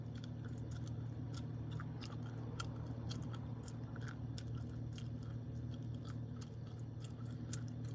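Gum being chewed and smacked with the mouth open, close up: a steady run of small wet clicks and smacks scattered through the clip over a constant low hum, with no talking.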